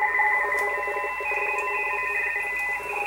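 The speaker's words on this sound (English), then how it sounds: "This is what Radioteletype sounds like when you have a little signal here." Radioteletype (RTTY) digital signals on a radio receiver, overlapping steady two-tone warbling carriers running continuously at moderate level with light static behind them.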